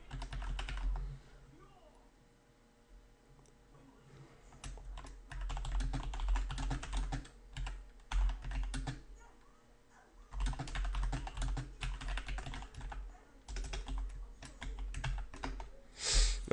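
Close, rapid clatter of typing on a computer keyboard comes in irregular bursts separated by short quiet pauses.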